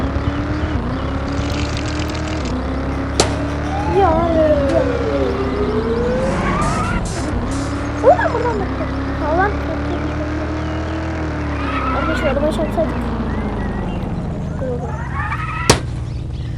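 Car engine from the video game Dude Theft Wars, a steady droning motor with rising and falling pitch as it drives, a few sharp clicks and bumps, with someone talking over it.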